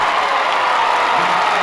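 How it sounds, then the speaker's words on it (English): A large crowd at a high school football game between Westlake and Smithson Valley roars and applauds in a dense, unbroken wash of noise after a touchdown. "Listen to the crowd."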